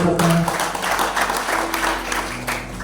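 Churchgoers at a sermon break into applause for God, a quick burst of clapping that starts strong and fades over a few seconds against a background hum.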